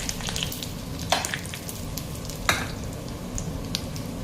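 Cumin seeds and whole dried chillies dropped into hot oil for khichuri tempering, giving a steady crackling sizzle with a couple of sharper pops, moderately loud and without any voices.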